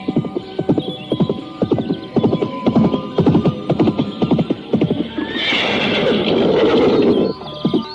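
A horse, used as a radio drama sound effect, trots with steady clip-clop hoofbeats, then lets out a loud, drawn-out whinny near the end.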